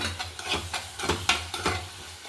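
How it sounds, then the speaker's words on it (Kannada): Turmeric, garam masala and chilli powder stirred into hot oil in a pan for egg rice: a series of scraping stirs with a light sizzle underneath, close and moderately loud, no talking. "ಕಾಲು ಟೀ ಸ್ಪೂನ್ ಅರ್ಶಿನ ಪುಡಿ ಮತ್ತು one tea spoon garam masala ಮತ್ತು ಒಂದು ಎರಡು ಟೀ ಸ್ಪೂನ್ ಖಾರ ಪುಡಿ ಹಾಕಿ ಚೆನ್ನಾಗಿ ಎಣ್ಣೆಗೆ ಮಿಕ್ಸ್ ಮಾಡಬೇಕು"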